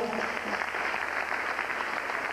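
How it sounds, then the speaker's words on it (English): An audience at a talk claps steadily for a speaker, a dense, even patter of hands at moderate distance that continues throughout. "let's clap it up for Brother Tony Browder"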